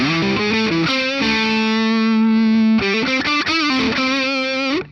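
A 2003 Gibson Custom Shop electric guitar played with heavy distortion, sustained gritty chords and bends ringing loud and close, with no talking.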